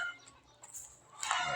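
Imported cockerels cluck and squawk in a barn, giving short, sharp fowl calls that rise into a louder burst at the end, with a steady low hum of the building behind them.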